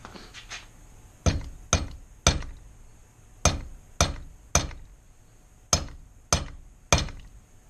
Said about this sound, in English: I'm going to mark my front hole with my 3/16 transfer punch.